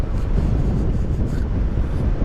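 Typhoon Pepito's wind in the Bicol region buffets the microphone outdoors, a loud, continuous low roar with constant rumbling gusts and no voices.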